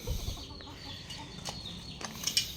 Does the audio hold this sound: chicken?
yes